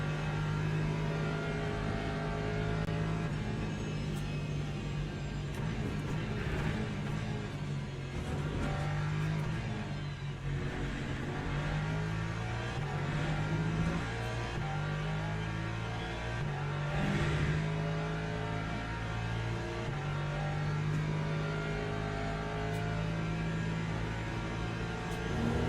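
Pack of Porsche race cars in Le Mans Ultimate, a continuous loud engine drone with shifting pitch as cars rev and run close together, steady throughout with no speech.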